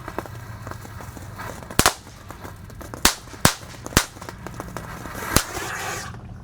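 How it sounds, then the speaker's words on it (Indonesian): A Thor tank firecracker is lit and pointed down into a well, giving five sharp, loud bangs at irregular intervals over a low rumbling background, with no voices. "yang pertama kita nyalakan adalah mercon tank Thor. Kita nyalakan, kita hadapkan ke dalam sumur guys"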